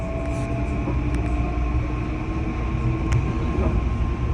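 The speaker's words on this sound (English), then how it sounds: "This is the train to Grand Central." A New Haven Line commuter train bound for Grand Central rumbles along, a steady loud rolling roar with a faint whine and occasional clicks from the rails, heard from on board.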